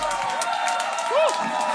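Live studio audience applauding a comedy game show's opening, a steady broadband wash of clapping and crowd noise with a brief whoop rising above it.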